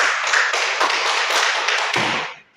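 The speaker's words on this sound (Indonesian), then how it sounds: "mari kita berikan tepuk tangan yang meriah untuk Bapak Kosmas" A school staff audience gives a presenter a short burst of dense, lively applause indoors, loud and close, which tapers off quickly at the end.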